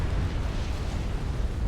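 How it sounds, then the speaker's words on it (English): A large in-game explosion in Supreme Commander: Forged Alliance rumbles as a sustained, heavy low boom with a roaring, crackling wash, loud and continuous throughout, with no voices. "Very beautiful explosion"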